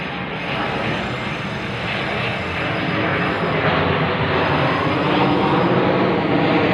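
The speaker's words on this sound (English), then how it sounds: "Plane heading for me, directly for me, right over my head." A steady, loud roar of an airplane passing overhead, a broad rumbling drone that swells slightly as it nears.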